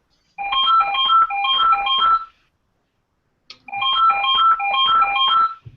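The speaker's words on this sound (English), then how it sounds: "I think someone's phone's going off." A mobile phone ringtone goes off during an online meeting, two bursts of a bright, repeating melodic tone pattern separated by a short silence, loud and close with no talk over it.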